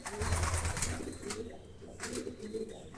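Domestic pigeons in a nest feeding three chicks, giving soft low cooing and rustling close by, with faint chirps and brief wing or body movements throughout.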